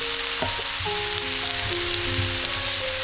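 Mushrooms and chicken fry in a pan for a creamy mushroom chicken dish, giving a steady, close sizzle with a few scraping stir sounds throughout.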